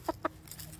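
Two short chicken clucks close by, about a beat apart, followed by faint farmyard ambience with a low background hum.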